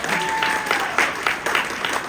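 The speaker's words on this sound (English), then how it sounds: "huge round of applause, please, for Jessie for handing out the cards" Applause from the audience at TrotCon, a convention Q&A session, with steady dense clapping throughout and a few sharper bursts, fairly close and loud, with no one speaking over it.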